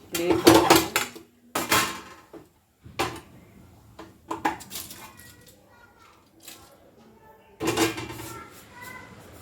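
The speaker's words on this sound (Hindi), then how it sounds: "प्लेट ली हमने स्टील की, उसमें एल्युमिनियम फॉइल लिया है" A steel plate lined with aluminium foil being handled: several sharp metallic clanks and clatters in clusters, close and loud, with quieter rustling and knocks between them, and a voice speaking faintly.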